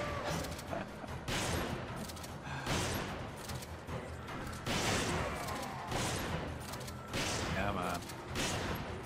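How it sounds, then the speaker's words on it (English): Rapid gunfire in the co-op game Resident Evil 5 on PC, with bursts of shots repeating in loud clusters and weapon clatter, with players talking over the action. "Oh, I keep firing at goddamn walls!"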